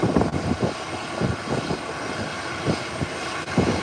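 An aircraft taxiing at an airport in a flight simulator game, giving a steady, loud engine drone with a rough propeller-like churn throughout, and no voices.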